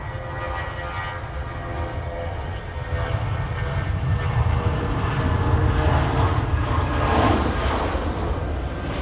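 A passenger airliner landing on runway 16 right at Sydney Airport, a loud, steady engine roar that swells slightly in the middle of the clip.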